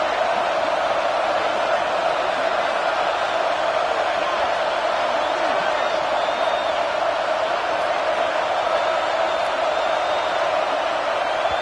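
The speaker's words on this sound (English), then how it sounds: "with this place rocking, the crowd forces a false start" A stadium crowd roars steadily at a Mississippi State at Auburn college football game, a dense, loud, unbroken wash of noise with no individual voices standing out.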